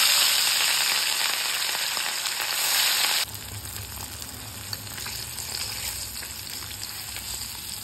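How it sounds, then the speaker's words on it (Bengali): Marinated katla fish fry in hot mustard oil, a loud bright sizzle that drops abruptly to a quieter, steady crackle partway through. "এবার ম্যারিনেট করা মাছগুলো ভেজে নেব।"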